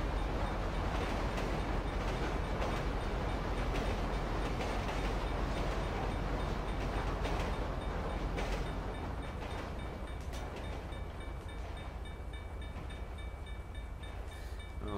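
A train rolls past a level crossing near a road with barriers, a loud continuous rumble and clatter of wheels on rails that holds steady for the whole stretch and eases slightly toward the end.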